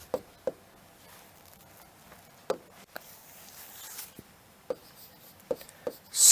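Chalk or marker taps and scratches on a board during a Hindi grammar lesson, heard as sparse, sharp clicks and short strokes at close range in a quiet room.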